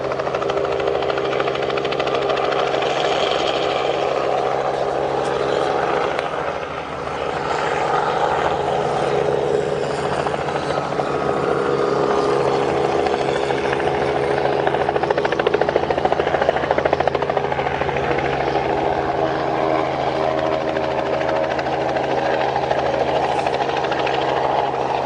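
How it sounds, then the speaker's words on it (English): Helicopters fly very low overhead during a rhino dehorning operation, their steady rotor drone loud and continuous throughout with no voices. "can still hear the choppers going very, very, very low"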